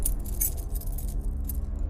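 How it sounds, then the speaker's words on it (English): A key being pulled out to unlock a locked armory door gives a soft, continuous metallic jingle and rattle over a low background rumble, close and moderately quiet, with no talking. "He pulled out a key,"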